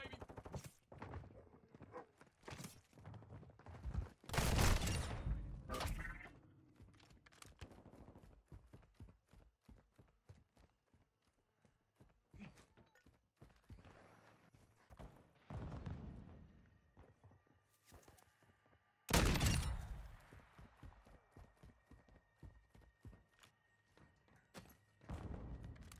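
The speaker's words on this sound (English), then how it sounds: "I'm taking fire!" Call of Duty gunfire: scattered shots and rapid bursts, with two loud close blasts standing out among quieter distant popping, all fairly low in level overall.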